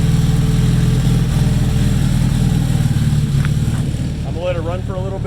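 A rebuilt Nissan KA24DET engine idles steadily after its first start, warming up to bleed the coolant, with a constant low drone and harmonic rumble throughout and a faint higher whine near the end.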